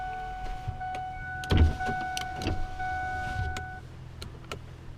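Power windows on a 2001 Ford F-250 Super Duty whirring in a steady electric motor hum across several seconds, with a few clicks and thumps at close range inside the cab.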